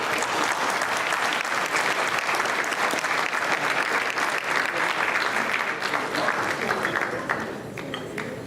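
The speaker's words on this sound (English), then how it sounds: "We have a big round of applause" A large crowd at a 2015 unity dinner breaks into a big round of applause, dense sustained clapping that stays loud and even before thinning out near the end.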